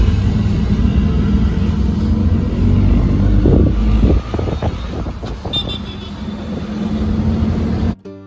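An auto rickshaw ride: a steady engine rumble and road noise from inside the vehicle, with a few bursts of mid-ride clatter and a horn-like toot partway through, ending in an abrupt cut.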